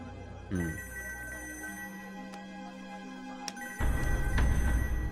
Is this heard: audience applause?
no